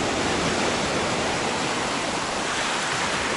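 A small river pours into the sea on a beach near Adler, giving a steady, loud, broadband rushing of water that stays even and close throughout with no voices.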